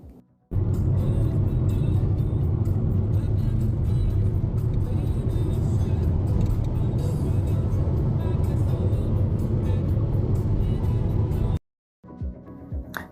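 A Mitsubishi Outlander cruises along an Australian highway near Menzies, giving a steady, loud road rumble and tire drone for several seconds before cutting out abruptly, followed by a few faint knocks.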